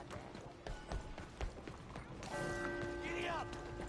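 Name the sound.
horse hooves in Red Dead Redemption video game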